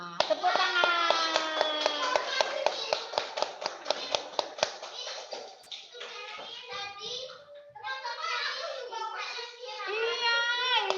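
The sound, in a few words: clapping hands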